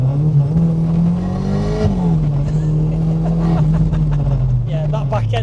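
A Merkur XR4Ti with a 2.4 Honda engine swap accelerates hard at full throttle, its engine note rising and dipping through gear changes, loud and close, with voices talking over it.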